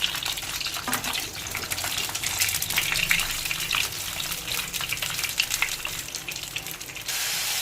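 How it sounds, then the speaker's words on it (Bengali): Pointed gourds (potol) sizzle in hot oil, a steady, loud frying hiss with crackling spatter that runs unbroken throughout, no voices present. "পটলগুলোকে এবার নেড়ে হালকা লাল করে ভেজে নিতে হবে"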